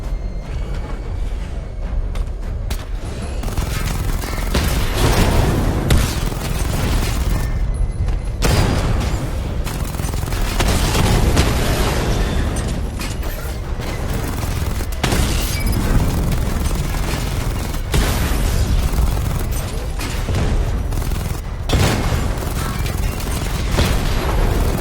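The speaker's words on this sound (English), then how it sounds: "Charge up missile barrage to level 2 and destroy 4 active targets to complete diagnostic test." Loud, continuous barrage of booming missile explosions from a Batman Arkham Knight game, heavy dense bursts rolling one into another for the whole stretch with brief dips between volleys.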